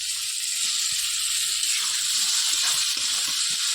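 Potatoes dropped into hot oil with spices sizzle in a pan, a steady, loud, bright hiss that runs continuously throughout, with faint clatter underneath.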